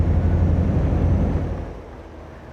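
A lorry engine in Alaskan Road Truckers gives a deep, low-speed rumble that starts loud and steady, then gradually fades and softens over a couple of seconds.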